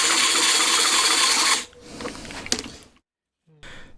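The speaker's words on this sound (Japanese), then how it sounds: "仮の電動ドライバーで回してみます。" A temporary electric screwdriver spins the small cast rocker arm of a homemade four-cylinder Honda Monkey (CD125four) engine, giving a loud, steady whirring buzz for about a second and a half, then a rougher mechanical rattle that cuts out abruptly.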